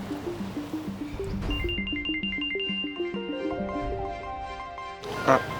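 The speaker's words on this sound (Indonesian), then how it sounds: "Sebentar ya, ada telepon." A mobile phone ringtone plays a bright, repeating melodic pattern of short tones at close range for about five seconds, stopping just before a brief clatter at the end.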